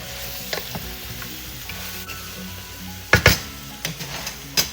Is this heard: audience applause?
no